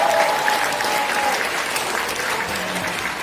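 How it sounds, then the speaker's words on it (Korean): Steady applause from an audience at a political debate meeting in Seoul, a sustained wash of many hands clapping at even loudness for a few seconds. "큰 박수 부탁드립니다."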